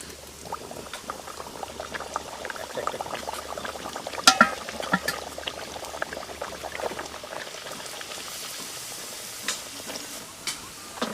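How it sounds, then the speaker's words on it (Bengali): Beetroot luchi frying in hot oil: a steady close bubbling and crackling sizzle runs throughout, with a few sharper pops as the oil spits. "তেল আমাদের গরম হয়ে গেছে এবার আস্তে আস্তে লুচিগুলো ছেড়ে দিচ্ছি"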